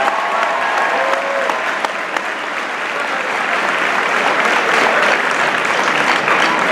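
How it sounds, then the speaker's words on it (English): A student body at a school event applauds Olympic hockey player Kendall Coyne with loud, dense clapping from a big crowd in a hall, swelling slightly toward the end and continuing throughout. "So once again, give her a nice round of applause."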